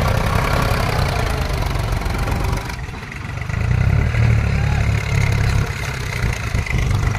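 A Sonalika 35 tractor pulls a fully loaded trolley through sand, its engine a loud, steady low rumble throughout. The rumble dips briefly around the middle, then swells again.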